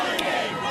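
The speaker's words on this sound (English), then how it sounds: "These people are booing in response to the proclamation of King Charles." A large crowd of protesters at King Charles's coronation procession roars with booing and chanting, a dense, steady wall of voices in a brief burst.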